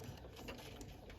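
A sewing machine stitches a satin-stitch appliqué for quilting, producing a quiet, steady, rapid mechanical whir with no talking.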